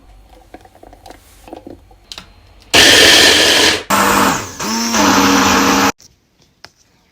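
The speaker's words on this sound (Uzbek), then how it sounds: "blenderda maydalab oldim" An electric blender grinds banana and onion in three loud, whirring bursts lasting about three seconds in total, with short pauses between bursts, followed by quiet handling sounds.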